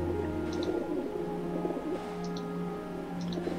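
A pigeon coos in the video game Dark Heritage, a few soft, repeated calls spaced out over a steady low ambient hum.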